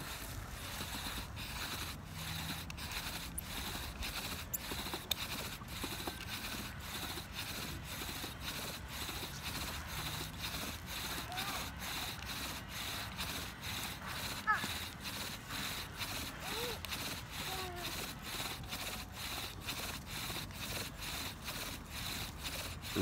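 A bow drill spindle turns in a wooden hearth board that sits poorly in its divot, making a steady rhythmic back-and-forth scraping and rubbing with regular strokes, close and continuous, while someone talks over it.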